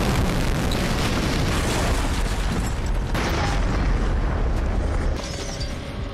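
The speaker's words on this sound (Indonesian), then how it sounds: "ternyata itu adalah suara bom dan terjadilah ledakan" A loud, rumbling blast that roars continuously for several seconds, like a bomb explosion, fading slightly at the end.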